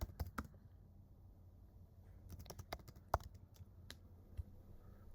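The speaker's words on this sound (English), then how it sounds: "I'm going to write a code." Keys tapped on a computer keyboard while writing Kotlin loop code, a quiet, irregular patter of clicks with a few sharper strokes, close by and heard alone.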